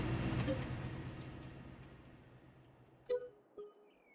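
A train pulls away in the farming video game Farming Simulator 22, its rumbling engine fading steadily into the distance, followed by two short clanks at the end.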